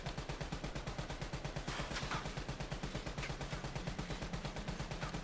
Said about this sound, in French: Je vais essayer de tirer le moins de balles possible.